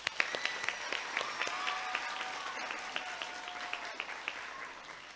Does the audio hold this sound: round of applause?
yes